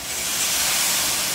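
Cold water flashing into steam on a hot restaurant griddle at a sandwich shop, a loud, steady broadband hiss that holds for the whole stretch with no talking.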